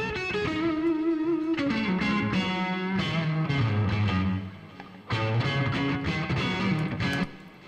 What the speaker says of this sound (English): I've actually added some reverb, a little bit of slap of my own, and a delay, a longer delay.